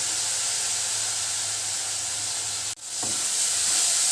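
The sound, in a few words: tomatoes sautéing in a pan for neem flower kuzhambu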